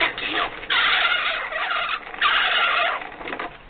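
A 1989 Mattel See 'n Say talking farm toy plays an electronic turkey gobble, two bright bursts of rapid warbling calls, loud and close, with no talking.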